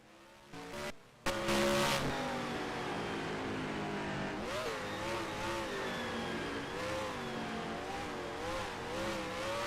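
A race car engine in the NR2003 racing game holds a loud, steady drone with a wavering pitch, following a brief rev and a cut at the start. Its fourth gear appears to be failing, and no voices are heard.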